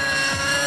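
A T-Rex 600 RC helicopter, a 50-size class model heli, drones steadily in flight with a constant, harmonic-rich rotor and motor whine, close and loud throughout.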